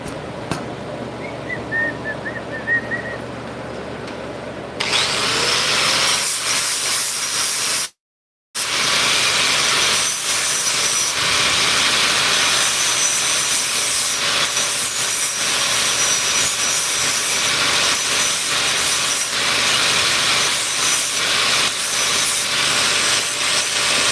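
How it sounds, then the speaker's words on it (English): A power tool grinds steadily while deburring a metal part in a welding shop, a loud, continuous abrasive roar lasting the whole stretch with one brief cut-out near the start. "Just doing a little deburr on that."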